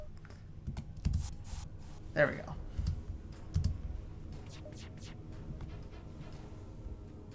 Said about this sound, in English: I'm clicking the wrong button, aren't I?